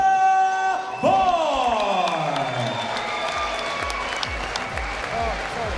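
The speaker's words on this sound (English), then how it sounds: "A big round of applause." A fight crowd applauds and cheers a TKO winner at a kickboxing event, a loud sustained wash of clapping with whoops, while an announcer's voice carries over it early on.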